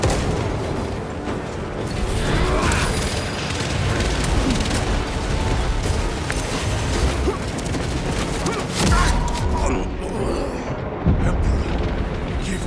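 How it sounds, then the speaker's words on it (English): Frag grenade blast in Warhammer 40000: Space Marine 2, booming and rumbling amid sustained battle noise with gunfire and heavy impacts across the whole stretch, loud and dense. "Frag grenade deployed."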